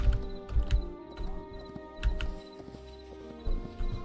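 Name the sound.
horse hooves in Hytale video game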